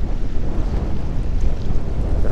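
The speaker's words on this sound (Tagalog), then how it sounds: "Malakas yung alon." Strong sea waves and gusting wind at a Jomalig Island beach at low tide, heard as a loud, steady broadband roar with continuous buffeting against the microphone throughout.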